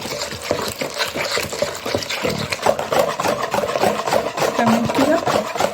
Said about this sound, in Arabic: الميه نازله وافضل اقلب كده